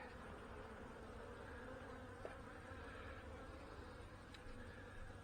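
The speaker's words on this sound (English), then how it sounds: "I think there's a lot of bees in here" A dense, steady hum of many honey bees buzzing inside a hive box with wild comb and a pollen patty, continuous and close, with occasional faint clicks.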